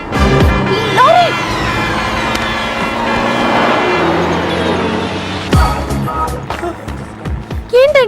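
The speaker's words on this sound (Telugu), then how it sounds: "లారీ!" A lorry roars past close by on a road in a Telugu film scene, a loud rushing engine and tire swell that fades, followed by a sharp shout and voices talking.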